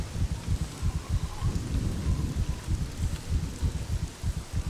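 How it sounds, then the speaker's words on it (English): Steady rain with rumbling thunder in the open-world zombie survival game Scum, a dense continuous downpour over low, rolling booms throughout, with no voices. "I'm gonna get out of the fucking rain"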